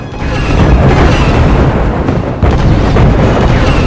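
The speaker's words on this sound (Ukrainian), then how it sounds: "Зосередьте вогонь турболазерів на цілі" Turbolaser fire and explosions from the video game Star Wars: Republic Commando form a loud, continuous barrage of deep booms and blasts, dense and rumbling throughout.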